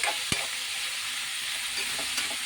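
Prawns and cucumber fry under a lid in a covered pan, a steady muffled sizzle with an initial clack of the lid and a few soft stirring taps, no speech.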